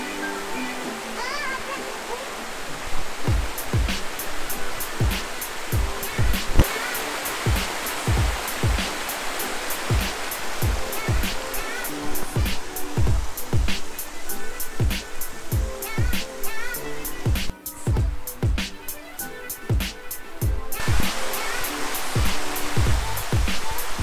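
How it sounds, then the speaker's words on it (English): A waterfall rushes in a steady, broadband roar, with a person talking over it and scattered clicks and knocks throughout. "we're in another waterfall again."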